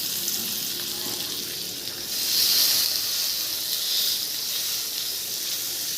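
Fish frying in hot oil in a pan, a steady bright sizzle and hiss that swells louder midway and holds close and continuous.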